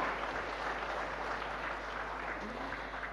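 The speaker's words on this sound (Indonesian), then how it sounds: "Tepuk tangan untuk seluruh calon wakil wali kota." An audience at a deputy mayoral candidates' debate applauds in a steady, fairly faint round of clapping that carries on throughout.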